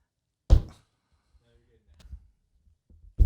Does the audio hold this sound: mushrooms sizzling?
no